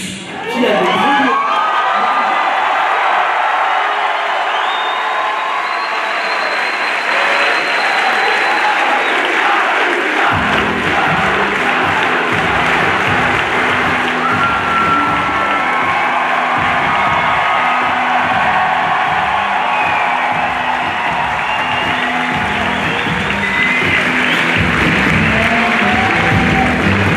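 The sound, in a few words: audience applause and cheering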